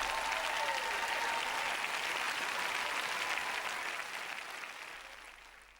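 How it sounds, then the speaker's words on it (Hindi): A congregation applauds during a sermon, with dense, loud clapping that holds steady and then fades away toward the end. "ताली बजाना है तो उसके बारे में बजाओ।"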